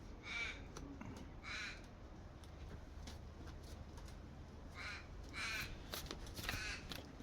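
A crow caws in repeated bursts of harsh calls, some nearer and some more distant, over a faint, steady hiss of ambient noise.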